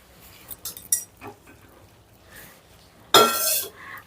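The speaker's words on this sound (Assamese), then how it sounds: "আৰু বিলাহীখিনি দি এবাৰ ভালকৈ মিলাই দিছোঁ" A spoon stirs chopped tomatoes into a drumstick curry in a pan: scattered light scrapes and clinks, then one louder, longer scraping stir near the end.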